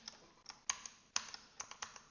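Ctrl and Page Down keys pressed on a computer keyboard as a spreadsheet shortcut: a quick run of about eight crisp, close plastic key clicks in an irregular rhythm, with no voices.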